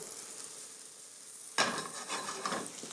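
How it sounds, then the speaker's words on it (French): A knob of butter hitting a hot pan and sizzling, ready for roasting mangoes; quiet at first, then a sudden crackling hiss that keeps spitting and fizzing close by. "Un morceau de beurre pour rôtir mes mangues."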